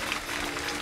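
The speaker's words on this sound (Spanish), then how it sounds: "Fuerte el aplauso." Studio audience applause on a Spanish television comedy show, a brief, fairly quiet wash of steady clapping lasting under a second with no voices over it.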